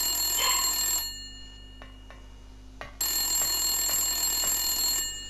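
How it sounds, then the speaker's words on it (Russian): A dial telephone rings in the Silent Hill video game: a loud, steady electronic ringing for about a second, a brief quiet gap with faint clicks, then the ringing resumes and carries on to the end. "Кажется, телефон сломан."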